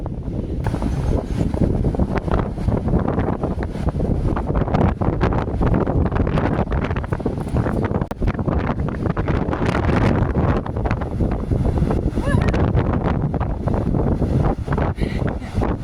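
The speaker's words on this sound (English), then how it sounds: "you're not sitting in the house listening to the wind" Strong outdoor wind buffets the microphone in a loud, continuous roar with gusty rumbling across the whole stretch, no voices over it.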